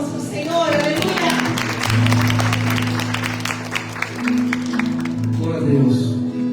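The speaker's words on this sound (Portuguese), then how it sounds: "Você pode dar uma salva de palmas para o Senhor?" A church congregation at an evening service applauds, with scattered and sharp claps ringing over a sustained organ-like musical drone, and voices call out amid the clapping.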